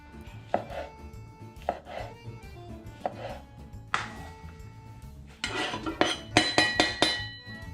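A knife chopping carrots on a board for a home-cooked stew, a few spaced single cuts at first, then quicker clustered chops with light clinks of utensils, close and crisp with no talking.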